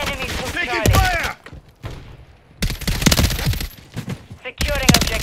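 Gunfire in a video game battle: rapid bursts of automatic shots in dense volleys, loud and close, broken by brief pauses, with shouted game voices cutting in between.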